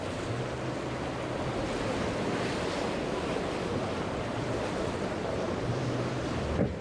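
A small boat slaps across choppy water, heard as a continuous loud wash of surf and wind noise with faint low thumps of the hull, no voices.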